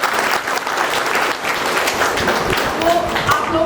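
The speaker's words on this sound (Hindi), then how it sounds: "उनके लिए भी बहुत ज़ोरदार तालियां" Loud, steady applause from a village crowd fills the whole stretch without pause, honouring Pandit Jasraj's family.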